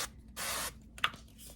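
A short hiss of cooking spray onto a heated waffle iron, about a third of a second, followed by a faint click and quiet background.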